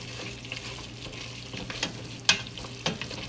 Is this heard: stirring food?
yes